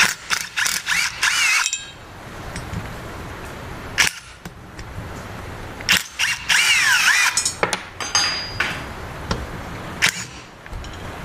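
A ratchet works loose the factory wastegate bracket on a second-generation Cummins diesel, with bursts of rapid metallic clicking broken by pauses, clanks and tool handling, close and fairly loud with no talk.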